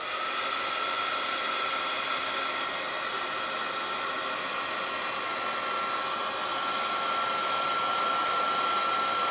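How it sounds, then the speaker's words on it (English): A craft heat gun blows continuously on its hotter setting, a loud, close, steady whooshing hiss with no change in pitch or pause, and no talk. "with my heat gun, our heat tool has multiple speeds. It has 2 speeds, so I'm going to use the hotter speed"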